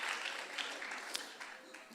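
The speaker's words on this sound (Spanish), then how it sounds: "denle un fuerte aplauso al Señor" Faint, brief applause from a church congregation, a soft wash of clapping that fades over about two seconds.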